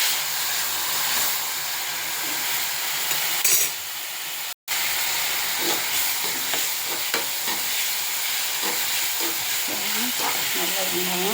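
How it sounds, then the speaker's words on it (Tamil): Onions sautéing in a pan for kadai paneer, a steady broadband sizzle and fry hiss running throughout with occasional stirring scrapes, briefly cutting out midway before resuming at the same level. "நல்லா வெங்காயம் இந்த அளவுக்கு வதங்கிடுச்சு."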